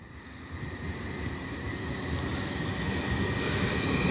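A train pulls away from Peterborough station with a low, steady rumble that swells gradually as it gets under way, a continuous mechanical drone with no talking.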